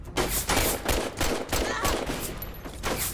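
Rapid bursts of gunfire from a 13-round magazine weapon in Fallout: Tale of Two Wastelands, a video game, several loud shots in close succession with no talking.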